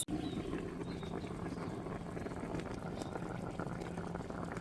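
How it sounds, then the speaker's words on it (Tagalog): Chicken simmers in a covered pot of liquid for fried chicken, a soft, steady bubbling boil heard close and quiet with no talk. "Takpan at papakuluan po natin ng 20 minutes."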